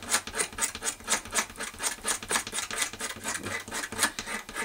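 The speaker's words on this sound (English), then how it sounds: "I'm going to take my razor blade, and I'm just going to scrape this clean" A razor blade scrapes a gun part clean in steady, repeated rasping strokes, close and loud in an even back-and-forth rhythm with no talking.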